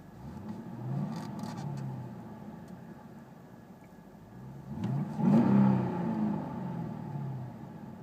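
A car engine revs up and settles back into a steady hum, heard from inside the cabin of a 2012 Cadillac CTS-V Coupe with a manual gearbox, muffled and fairly quiet, with a louder surge midway around 4,000 RPM.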